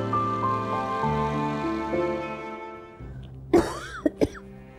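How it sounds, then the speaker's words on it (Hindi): A few short, sharp coughs from a woman near the end of a domestic drama scene, heard over a sustained musical background score. "पता भी है खांसी का दौरा पड़ता है मुझे"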